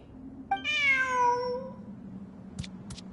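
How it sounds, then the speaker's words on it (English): A cat meows once in the video game Genshin, a clear, drawn-out call that rises and then fades, followed by two faint clicks with a low hum underneath. "Who's a good kitty?"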